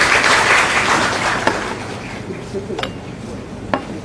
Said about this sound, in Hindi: एक बार जोरदार तालियों से हम उनका स्वागत करते हैं।